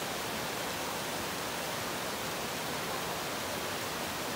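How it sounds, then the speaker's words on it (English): A creek flowing toward Big Bear Lake gives a steady, dense hiss of rushing water that stays constant and close throughout, with no voices. "Yes, and the creek is flowing. Oh, that's such a beautiful sound"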